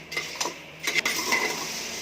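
A metal spoon scrapes and clinks against a frying pan in a few quick strokes while spicy puffed kaaram burugulu are stirred over low heat, with a soft sizzle underneath.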